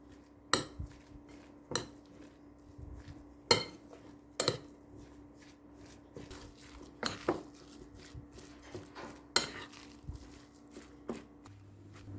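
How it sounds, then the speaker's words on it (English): Minced pork being mixed by hand with vegetables, salt, pepper, dried parsley, soy sauce, lime juice and oyster sauce in a bowl, giving soft wet squelches punctuated by scattered sharp clinks of a utensil against the bowl, close and fairly quiet, with no talk. "In a bowl, let's mix the minced pork together with our vegetables, salt, pepper, dried parsley, soy sauce, lime juice, and oyster sauce."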